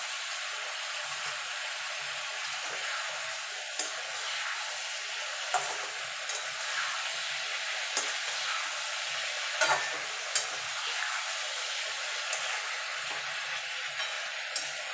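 Mixed vegetables with eggplant fry in a pan, giving a continuous close sizzle broken by irregular stirring scrapes and light taps of a spoon against the pan.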